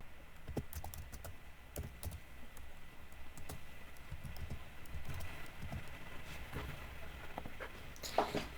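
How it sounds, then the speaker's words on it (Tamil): Typing on a computer keyboard, a quiet run of irregular key clicks at close range, ending with a slightly louder keystroke. "பைத்தான் டவுன்லோட் டைப் பண்ணுங்கள்"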